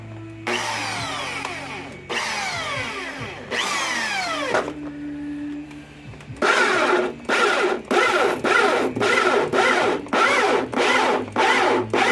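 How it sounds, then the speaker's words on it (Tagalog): A power drill bores holes for mounting driving lights on a 2006 Kia Picanto, running in three longer bursts and then a quick series of short, loud pulses, close up with no talking. "Butasin na natin. Gumamit tayo ng pambutas."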